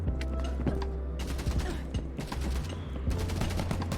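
Rapid gunfire in the video game Contractors Showdown: bursts of shots and automatic fire in several clusters, with mechanical clicks between them, fairly close and loud.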